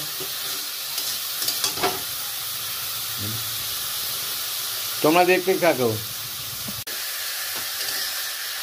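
Khesari greens fry in a wok with a steady hiss and sizzle throughout, while someone speaks briefly partway through.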